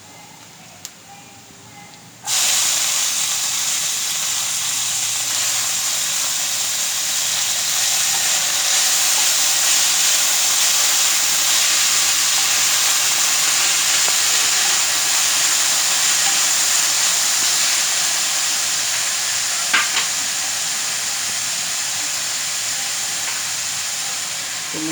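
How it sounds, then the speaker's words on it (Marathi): Cabbage goes into a frying pan of sizzling, pinkish browned onion, and a loud steady hiss of frying starts abruptly a couple of seconds in and continues alone, with a small clatter near the end. "आपण त्यात आता कोबी घालून घेतो."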